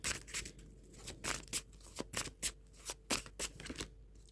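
Tarot cards shuffled and drawn by hand, a run of crisp papery riffles and snaps coming in quick uneven bursts, close and fairly quiet with no talking.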